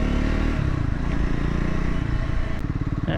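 A Triumph Scrambler 400 X motorcycle runs steadily on a ride, its engine note a continuous close rumble with a low throb and some rattling, pulsing more audibly near the end.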